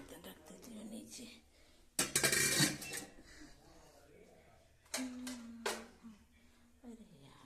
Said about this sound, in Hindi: बर्तन धुल दिए, बर्तन रख देती हूँ नीचे